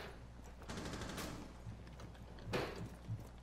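Gunfire in Rainbow Six Siege, quiet and somewhat distant, with scattered bursts of rapid shots and a louder volley near the end, alone without talk.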